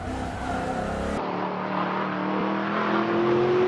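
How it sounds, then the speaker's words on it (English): A 1969 Mercedes 300 SEL race car powers hard along a wet circuit, its engine roaring loud and close with rising revs and a faint tire slide as it exits a corner. "There's some real brute force from that engine."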